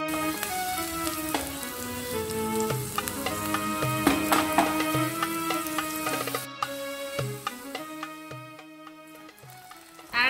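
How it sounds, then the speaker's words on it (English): Almonds and date pieces fry in hot ghee with a dense, constant sizzle and crackle, loud and close, flecked with small pops and the odd scrape of a utensil. "The smell is awesome when this fries in the ghee."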